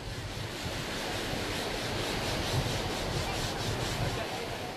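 Ocean surf rolls onto Jimbaran beach on Bali's Bukit peninsula, a steady close wash of breaking waves with a low rumble and gusty wind buffeting underneath, continuous and fairly loud with no voices.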